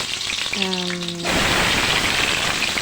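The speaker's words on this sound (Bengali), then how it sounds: "এখন দেখুন এই আলুগুলোকে ভেজে নিচ্ছি" A brief tonal voice-like sound gives way to a loud, steady crackling sizzle of raw cut potatoes frying in oil close by.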